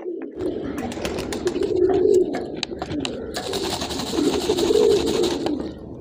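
Pigeons coo in soft, throaty repeated calls close by, layered with scattered chirps and bird chatter, a steady flock murmur running throughout.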